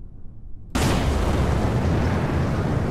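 A rocket launching in Kerbal Space Program bursts abruptly into a loud, sustained roar after a short quiet lead-in, holding a dense rumbling blast throughout.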